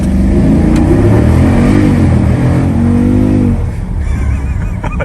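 A Jeep Grand Cherokee SRT launching hard under launch control inside a tunnel, a loud roaring engine climbing through the revs with echoing exhaust, then easing off as the roar fades near the end.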